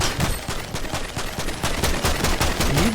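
Rapid, steady gunfire from primal weapons in Fortnite, loud and continuous, with shots repeating in quick succession.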